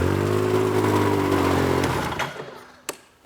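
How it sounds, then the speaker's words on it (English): A Yamaha snowmobile engine idles with a steady, buzzing drone while its exhaust is blocked by hand, then the sound drops away and fades, with a brief knock near the end. "I'm blocking that exhaust, and it's still running."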